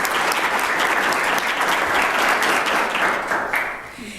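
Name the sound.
audience applause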